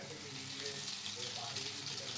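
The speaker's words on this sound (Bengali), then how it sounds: "এখন হচ্ছে ডিম ভাজা" Egg frying in oil just used for frying potatoes, a steady close sizzle and crackle filling the whole stretch, with faint household sounds underneath.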